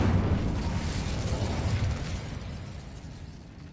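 An Incendio fire spell cast in Hogwarts Legacy bursts with a loud whooshing roar that starts strong and slowly fades over a few seconds, with no one talking.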